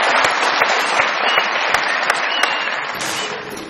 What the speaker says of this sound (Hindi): बहुत तालियां भाई के लिए।